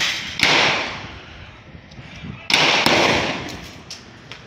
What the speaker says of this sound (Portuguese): Durante a troca de tiros, eles buscam se abrigar atrás de carros estacionados na rua.